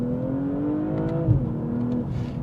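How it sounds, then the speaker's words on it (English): A BMW M240i xDrive G42 drives with a steady, droning exhaust note that dips briefly as the revs shift, with a soft pop or burble near the end. "You get some nice noises out the back of the car as well."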